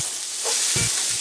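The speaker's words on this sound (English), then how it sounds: "we're gonna add a tablespoon of butter to a preheated cast iron skillet" A tablespoon of butter sizzles in a preheated cast iron skillet over medium heat, a bright steady hiss close up with a couple of soft low knocks.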